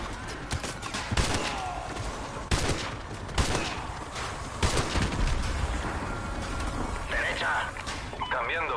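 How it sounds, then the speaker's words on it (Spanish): Sniper gunfire in Call of Duty Modern Warfare II: several sharp shots ring out at irregular intervals over a busy battle ambience, with voices talking in between. "Francotiradores, disparen."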